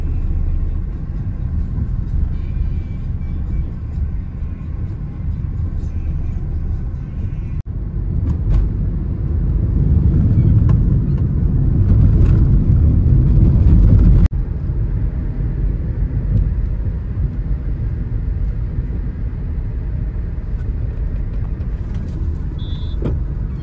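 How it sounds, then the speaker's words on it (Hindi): Car cruising on a highway at 90–100 km/h, heard from inside as a steady low road rumble with tyre roar and wind, swelling briefly louder midway, with no talking. "हमने हमारी गाड़ी की स्पीड बढ़ा ली है, 90-100 के आसपास हम गाड़ी चला रहे हैं"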